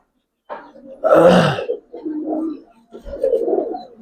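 Giribaz silver-coloured pigeons, a breeding pair, give a few low, throaty coos close by in short separate bursts, with a louder burst in the middle and brief pauses between.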